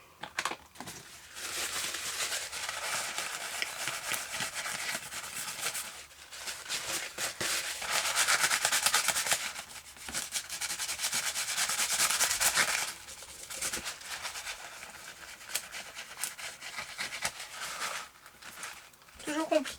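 A cleaning pad scrubs a cut-out stencil used with texture paste, giving bursts of raspy rubbing that stop and restart over about twenty seconds, close and fairly loud.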